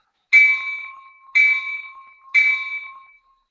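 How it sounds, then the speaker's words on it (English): A model train sound decoder plays a locomotive bell: three evenly spaced, bright metallic dings, each ringing out and fading before the next, loud and alone. "The bell is really, really loud."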